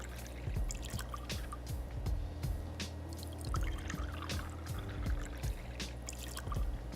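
Bourbon poured over ice at close range, with scattered clinks and crackles of cubes shifting and popping throughout.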